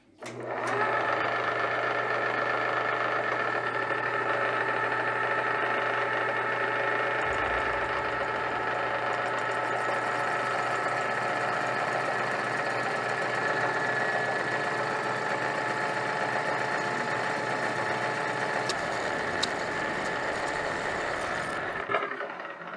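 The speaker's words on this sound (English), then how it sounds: "So I'm gonna chuck them up in the lathe and spin this cope off of them" Titanium header tubes spin in a lathe, a steady loud mechanical whir with a humming tone that holds for about twenty seconds and then winds down.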